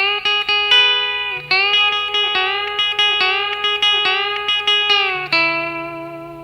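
An electric guitar with a B-bender plays a country lick from a song: a steady run of clean picked notes with bends and a light reverb tail, played alone.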